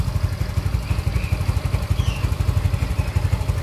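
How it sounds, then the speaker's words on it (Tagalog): A Yamaha Mio i 125 scooter engine, fitted with a new throttle position sensor, idles close by with a steady, even low putter that stays smooth throughout, with no voices. "Ang ganda po ng idle niya ngayon."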